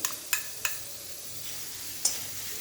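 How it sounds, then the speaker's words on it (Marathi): Spice paste fries in oil in a pan, a soft steady sizzle near the mic broken by a few sharp scraping clicks of a spoon stirring, with no voices. "आणि तेल तापायच्या आधीच आपल्याला हे वाटण या तेलामध्ये घालायचं आहे"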